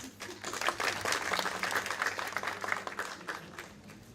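Audience applause at a book launch valedictory event: a dense, sustained round of clapping from a sizeable crowd, steady and fairly loud throughout with no talking over it.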